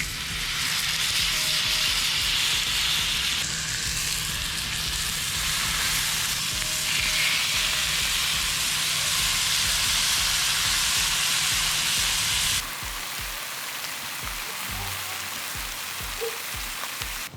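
Grass-fed bacon-wrapped filet steaks searing in oil on a Blackstone griddle, a loud, continuous hiss and sizzle that drops to a quieter crackle near the end.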